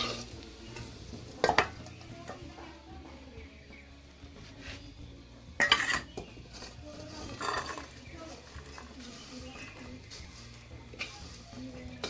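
Fried potatoes are scraped and lifted from a pan over a low, ongoing sizzle, with a few sharp metallic clinks and clatters of utensil against pan, and faint voices in the background.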